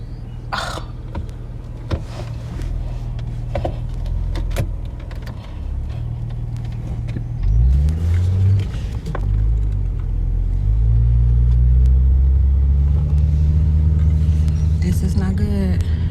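A car rumbles low and steady nearby while someone tries to pull it into a rain-soaked driveway, the engine note swelling partway through and holding loud to the end.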